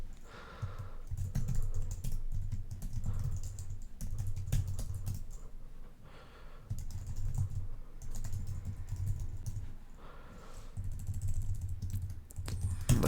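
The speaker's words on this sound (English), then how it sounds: "let me type that out to show you what that means" Typing on a computer keyboard while coding an iOS Swift app, bursts of quick close key clicks separated by brief pauses.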